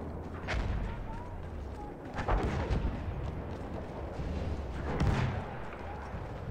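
Battlefield 1 combat with tank and artillery fire: dense, continuous rumbling gunfire with heavier booms at intervals, all at a steady loud level, with a voice speaking briefly.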